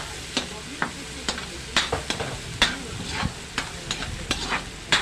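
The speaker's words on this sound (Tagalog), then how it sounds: "Then I saute the garlic. Then mekos-mekos nyo lang siya guys, ganyan. Ilalagay na natin yung ating onions. Then mix it together." Garlic and onions sautéing in a pan for garlic crabs, a low sizzle broken by repeated sharp spatula scrapes and taps at an uneven rhythm.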